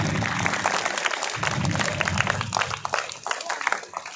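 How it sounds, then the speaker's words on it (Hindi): Audience clapping at a school's Republic Day program, a busy crackle of many hands with uneven bursts, fairly loud and continuous with some crowd murmur underneath. "बैस मैम ताली बजाए।"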